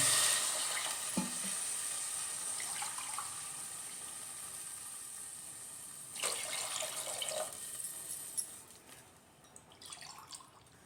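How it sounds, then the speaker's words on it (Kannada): Water is poured into a cooking pot of rice for a traditional roasted-rice upma, a soft continuous splashing and trickling with a few louder gushes and drips, close by and fairly quiet, with no voices. "ಈಗ ಅದಕ್ಕೆ ಎರಡು ಲೋಟನ ನೀರು ಹಾಕ್ತೀನಿ"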